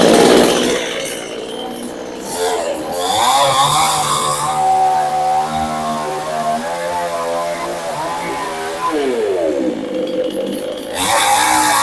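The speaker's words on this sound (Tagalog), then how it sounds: "i-demo po natin kung gaano po kalakas itong ating Powerhouse Petrol Chainsaw" A Powerhouse 22-inch heavy-duty petrol chainsaw runs loud and close, its buzzing engine rising and holding at high revs before dropping back, with brief handling noise at start and end.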